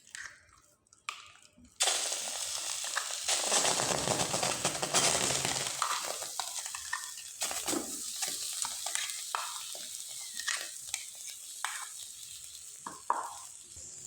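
Rice paste cooking in a wok for a rice-based pitha, with steady scraping and stirring strokes over a continuous sizzle after a brief quiet start, close and fairly loud.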